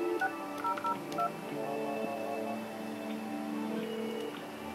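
Dialing tones from a Polycom SIP desk phone as extension 6002 is keyed in for a call transfer: a quick run of short, steady tone pairs at the start, followed by a lower sustained tone, with no talk.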